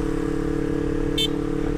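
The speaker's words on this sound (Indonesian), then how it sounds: "terus sekarang gue naik motor ini" A Yamaha motorcycle engine hums steadily while riding, a constant low drone with a brief higher-pitched blip partway through.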